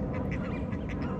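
A duck quacks repeatedly in a short burst of rapid calls, fairly distant and set against a steady outdoor background hum.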